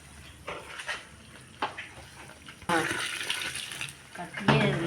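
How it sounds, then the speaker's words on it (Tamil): Water pours and splashes steadily into rice flour for batter, getting louder and fuller midway, with brief voices and clatter around it. "ஊற்றுங்க தண்ணி"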